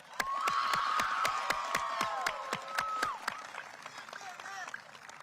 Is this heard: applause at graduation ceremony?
yes